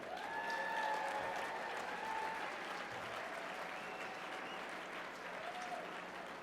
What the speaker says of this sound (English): Let's give a warm round of applause for Mr. Roland Williams.